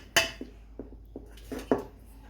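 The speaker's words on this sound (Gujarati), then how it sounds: "આ લોટ બધો તપેલીમાં નાખી દઈશું." Flour is tipped into a metal cooking pot in a home kitchen, giving one sharp clank followed by several lighter metallic taps and scrapes spaced irregularly, close and fairly quiet.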